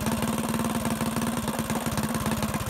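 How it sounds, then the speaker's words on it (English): A Ducar 212 Hemi performance small engine idles steadily after its idle speed is turned down, giving a loud, close, even chugging pulse with no talk over it. "Lower the idle down a little bit. Oh, yeah. Yeah, it's sounding much better now."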